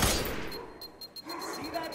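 Gunfire from the first-person shooter F.E.A.R. 3 fires in a rapid, steady volley of cracks across a combat scene, with a loud burst at the start and a continuous rattle of shots beneath it.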